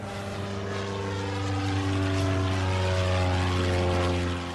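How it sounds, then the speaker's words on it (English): A propeller airplane passes overhead in a VR scuba-diving game with 3D audio, its steady droning engine hum swelling gradually louder and holding strong, with no voices. "incredible 3D audio, which genuinely tricked me into thinking a plane was going over my head"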